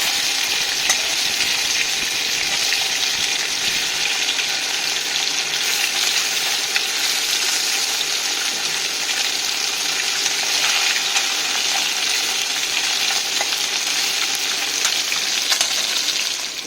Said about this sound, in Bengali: এই মাছগুলো খুবই নরম হয়, খুব সাবধানে ভাজতে হয়।